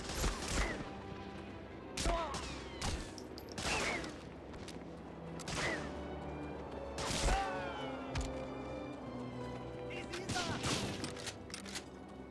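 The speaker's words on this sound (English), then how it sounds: "the fire rate on this pistol is pretty bad" A pistol fires slowly in Medal of Honor: Frontline. About seven sharp, fairly loud shots come at spaced, roughly regular intervals over quiet game ambience.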